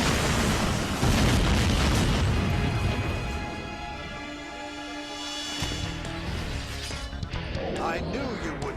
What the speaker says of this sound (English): That's why Ace is can take that explosion, because he's a robot.